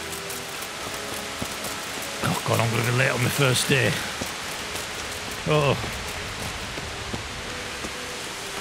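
Steady rain falls in the medieval open world of Kingdom Come: Deliverance, a constant hiss throughout, while someone speaks briefly over it midway.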